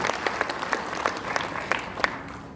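Indoor audience applause at a motivational seminar: a steady bed of clapping with sharper individual claps popping out, moderately loud throughout.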